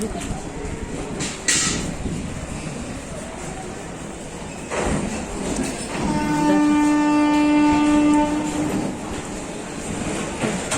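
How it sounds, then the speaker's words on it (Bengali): A train pulls into Sealdah station in Kolkata, its long horn sounding loud and near for a couple of seconds amid the rumble of rail cars and busy platform noise. "ট্রেন ঢুকে গেছে।"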